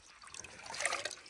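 Fresh well water spills and trickles from a bucket drawn up from a village well, a quiet, close splashing dribble that swells slightly toward the end before fading.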